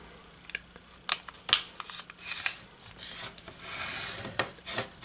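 Square origami paper being folded in half, white side up, giving soft rubbing and crisp creasing rasps with a few sharper crackles, close and quiet with no talking.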